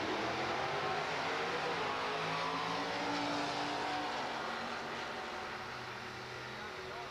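Drag racing car out of Staten Island making a full-pass run of about 156 miles per hour, heard as a sustained, loud engine roar that fades slightly over seven seconds, with broadband crowd and track noise mixed in.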